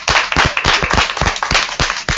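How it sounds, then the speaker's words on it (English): Applause from a panel-discussion audience thanking the panelists, sharp close claps in a brisk, uneven rhythm filling the whole moment with no voices. "We can just give them a round of applause."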